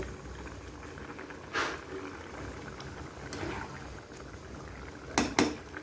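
Pot of chicken gizzard and liver simmering in water, a low steady bubbling hiss throughout with a few brief louder lid or stirring clatters near the end; no voices.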